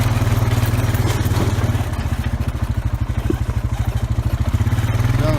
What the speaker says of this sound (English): That's our little tractor.